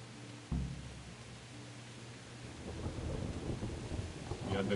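Rain and thunder in the Kingdom Come: Deliverance video game, with a low thunder rumble, then rain building to a steady patter.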